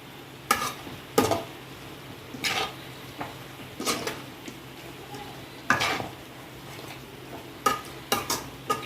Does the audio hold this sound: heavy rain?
no